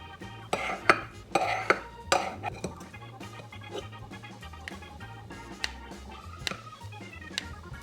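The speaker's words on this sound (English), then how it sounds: "And then we're just gonna mix everything together." Cut-up bacon and other ingredients are stirred together in a pan or bowl, with irregular clinks and scrapes of a utensil against the dish, louder early and quieter later, close by.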